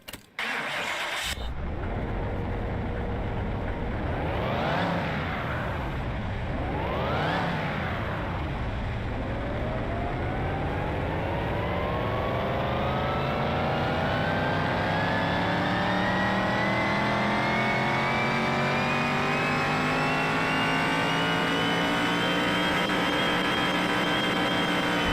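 A car engine in Car Mechanic Simulator cranks and fires up, blips twice, then revs steadily higher on a dyno in one long climbing pull, loud and continuous with no voices.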